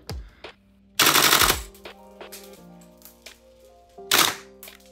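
An airsoft rifle fitted with a Victoptics S6 LPVO fires two loud, rapid full-auto bursts, each about half a second of dense clattering shots close to the listener. Quieter clicks and tones fill the gaps between them, with no talk.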